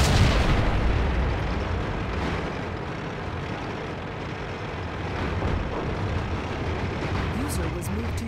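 Tank cannon fire with a French-style autoloader on a T1E6 in the World of Tanks game, heavy booming blasts and rumble running continuously under a dense battle din, with talk over it.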